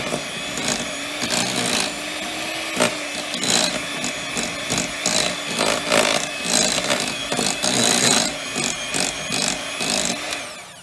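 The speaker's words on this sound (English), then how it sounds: "I got my mixer out this morning. You want to mix that up really well." An electric mixer creams butter and sugar for Valentine's cupcakes, giving a loud, continuous whirring with a rattling, grinding texture as the beaters churn the mixture for about ten seconds, with no talking.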